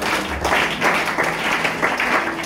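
Congregation applauding during a French-language church service, a dense burst of clapping from many hands filling the room at steady loudness for a couple of seconds.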